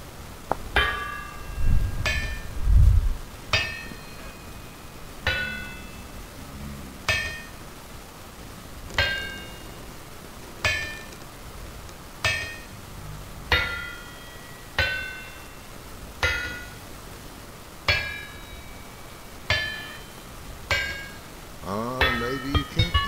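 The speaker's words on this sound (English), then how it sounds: "Let's go ahead and pound it out really quick with the hammer" Repeated metallic clangs of a hammer pounding metal in the video game Vintage Story, about a dozen evenly spaced ringing strikes roughly every two seconds, with a low thud early on and some busier noise at the end.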